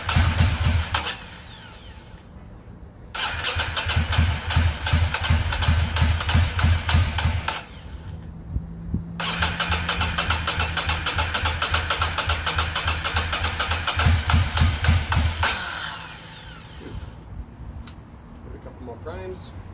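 A 2006 Ducati Monster STR 800 motorcycle engine runs close by after sitting unused for many years, in two loud stretches of steady rough idle separated by pauses, with people talking around it.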